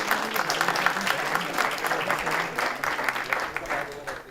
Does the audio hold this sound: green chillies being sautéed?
no